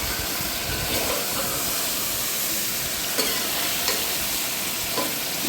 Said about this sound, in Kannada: ಅದನ್ನು ಚೆನ್ನಾಗಿ ಫ್ರೈ ಮಾಡ್ಕೊಳ್ಳೋಣ.